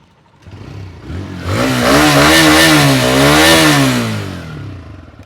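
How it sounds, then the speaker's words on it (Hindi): A TVS Raider 125 motorcycle's engine climbs from a low idle into a sustained rev with a wavering pitch, then settles back. The sound is loud and up close, with no voices. "अब सुन लेते हैं हम राइडर का साउंड।"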